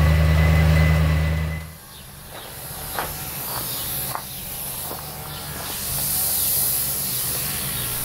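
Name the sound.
spray painting a car underside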